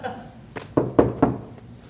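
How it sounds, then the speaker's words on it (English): Several knocks on a house door, four firm raps spaced about a quarter second apart, close and fairly loud, following a short stretch of low indoor voice or room noise. "Hold on, there's a knock at the door."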